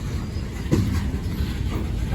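A low, continuous rumble of a freight train passing on the International Bridge at Unity Island, heavy and steady with faint clanks rising through it, no talking.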